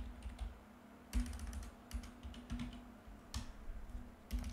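Steady typing on a computer keyboard, a run of close, light key clicks in uneven bursts with brief pauses, heard alone in a quiet room.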